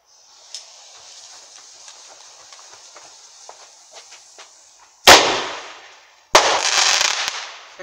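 Fireworks crackle and fizz faintly at first, then two loud sharp bursts go off in succession, each followed by a sustained crackling hiss.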